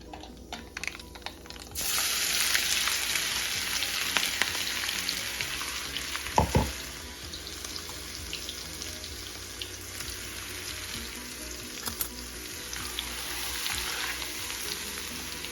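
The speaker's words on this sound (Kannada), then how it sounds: "ಸಾಸಿವೆ ಸಿಡಿಯೋರ್ಗು ಕಾದು ಆಮೇಲೆ ಈ ಹಸಿರು ಮೆಣಸಿನ್ಕಾಯಿ ಶುಂಠಿ ಪುಡಿ ಮಾಡಿ ಇಟ್ಕೊಂಡಿರೋದನ್ನು ಅದಕ್ಕೆ ಹಾಕೋಣ" Green chilli and ginger fry in a hot tempering of oil and mustard seeds, a bright, steady sizzle starting abruptly and holding, with a brief clatter of stirring midway.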